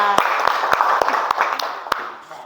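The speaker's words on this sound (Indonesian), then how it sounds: "Tepuk tangan untuk kita semua." Classroom of vocational high school students clapping hands together on a teacher's cue, a handful of sharp, spaced claps over a steady wash of room noise, ending abruptly.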